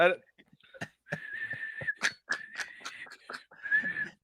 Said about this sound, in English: Listen again, whistle. All that's a whistle.